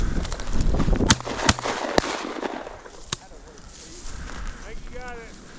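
Shotgun shots from a pheasant hunt on public land during a blizzard: four sharp, loud reports at irregular intervals over steady wind noise, with faint voices nearby.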